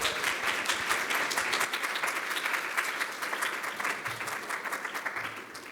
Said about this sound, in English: give a warm and welcoming applause to Anna-Caroline Weber